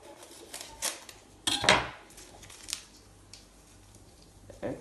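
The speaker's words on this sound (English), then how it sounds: "this is not easy to open. I'm gonna use a knife." A kitchen knife cuts open a stiff package of flour in short scraping and crinkling bursts, with quiet pauses between the cuts.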